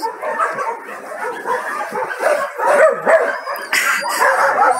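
Several dogs bark and yip at once at an animal shelter in a noisy, overlapping chorus, close by and continuous throughout.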